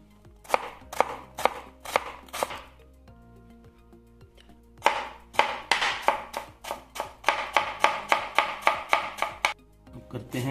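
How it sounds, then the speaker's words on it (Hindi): Knife chopping julienned carrots into small dice on a cutting board, a quick run of sharp, evenly spaced taps, a pause, then a longer steady burst of rapid close chops. "अब जूलियन को हम कर लेंगे स्मॉल डाइस।"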